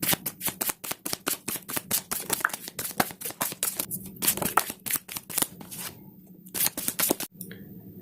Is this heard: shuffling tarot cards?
yes